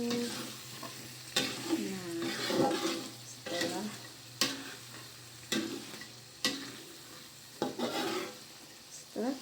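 Fish stirred in a frying pan with oyster sauce, a utensil scraping and clacking against the pan in repeated sharp strokes over a steady sizzle, close and fairly loud with no talk.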